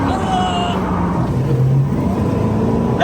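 A truck with a turbo-swapped 6.0 engine roars loudly and continuously during a burnout, its engine note rising and wavering as the tires spin, with voices nearby.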